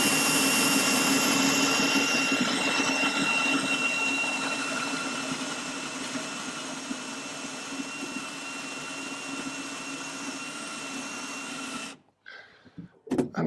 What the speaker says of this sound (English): Let's keep drilling.